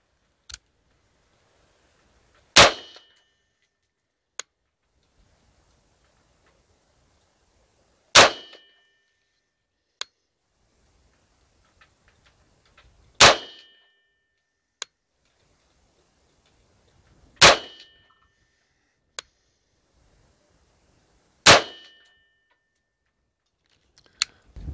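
A rifle fires Lake City M855 ammunition at a target seven yards away: five sharp, loud reports spaced about five seconds apart, each followed by fainter clicks and taps in otherwise near silence.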